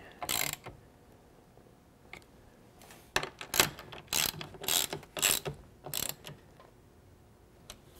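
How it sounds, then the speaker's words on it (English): A T50 Torx driver snugs down a Trektop fastener on a 4-door Bronco, giving a series of close, sharp ratcheting clicks in short bursts with brief pauses between them and no talking. "we can snug it up using the T50 once again"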